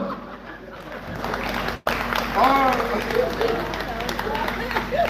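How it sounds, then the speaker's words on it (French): A crowd at an outdoor neighbourhood show applauds and cheers in a steady, lively mass of clapping, with voices and shouts mixed in and a brief dropout partway through. "On applaudit frénétiquement pour Ladi et Samé"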